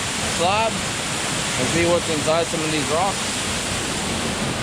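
Steady broadband roar of a waterfall near fossil-bearing rock slabs in northern British Columbia, filling the background continuously while someone talks over it close up.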